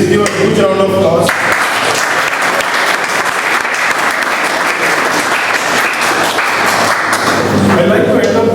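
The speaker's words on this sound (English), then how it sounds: "Please give a huge round of applause." A large Toastmasters meeting audience gives a loud, full round of applause that sweeps in after a brief voice, holds steady for several seconds, and gives way to talking again at the close.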